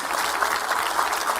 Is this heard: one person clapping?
yes